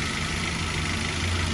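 A 2017 Toyota Rush TRD Sportivo Ultimo, a used car with a clean, dry engine, idles steadily up close: an even, continuous low rumble with a smooth hum and no voices.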